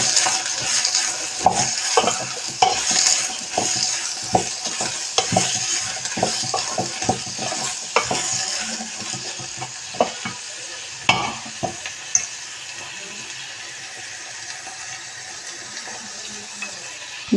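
Pieces of bottle gourd with onion and green chili are stirred in a hot pan on a gas stove, a spoon scraping and clacking in irregular strokes over a soft sizzle that carries on quietly once the stirring stops.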